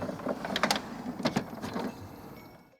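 The top of an Epson WorkForce Pro WF-4725DWF printer is lowered, giving a few close plastic clicks and a soft sliding rumble before a final settle into quiet.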